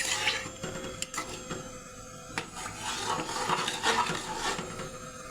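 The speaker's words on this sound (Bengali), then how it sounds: "এরকম নাড়িয়ে মিশিয়ে নেব।" Homemade tomato sauce being stirred and mixed in a pan, with close, irregular scraping and clinks of a utensil against the cookware, and no voices.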